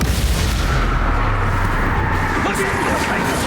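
Confringo, an explosive fire spell in the video game Hogwarts Legacy, goes off in a steady loud rumbling blast with booming low-end energy, joined late by a brief whooshing streak, under a dense game soundscape.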